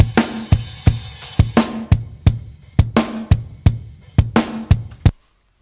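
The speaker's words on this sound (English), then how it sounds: "let's listen to the kick, snare, and the hat." Live-recorded kick, snare and hi-hat play a driving beat with sharp, evenly spaced snare cracks and booming kicks, the hat ticking through, loud and up-front before ending cleanly into silence.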